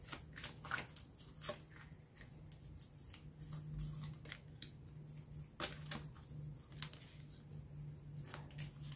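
Tarot cards being shuffled ahead of a spread, a steady riffling and patting of card stock close by with soft irregular slaps throughout, over a low constant hum.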